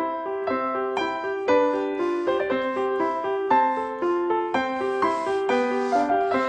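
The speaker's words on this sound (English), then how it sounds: "what a 7-year-old child sounds like when he plays the piano" Piano played by a seven-year-old child, a series of clear, distinct notes struck one after another at a halting, uneven pace, alone and fairly close.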